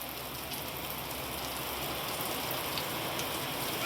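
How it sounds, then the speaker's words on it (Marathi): Heavy monsoon rain falling outside a shop, a steady dense patter and hiss on surfaces, continuous and moderately loud with no voices. "भरपूर पाऊस यायला लागला"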